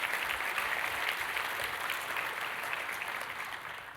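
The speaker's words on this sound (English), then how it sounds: "if you guys could join me in a round of applause for everyone who's built Linux." Sustained applause from a conference audience at a LinuxCon talk on IoT and connected devices, a steady dense clapping that holds at an even level throughout, fading only slightly at the end.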